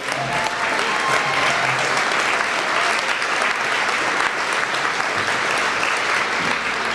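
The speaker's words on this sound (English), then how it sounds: "If you could please stand and accept our applause for your hard work." Audience applause at the BBB Dayton and Miami Valley 2018 Eclipse Integrity Awards ceremony: dense, steady clapping from a large crowd that holds at an even level for the whole stretch.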